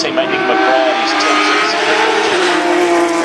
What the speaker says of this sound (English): This car's moving.